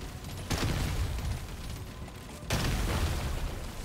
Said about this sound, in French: Merde, j'étais trop près de l'explosion.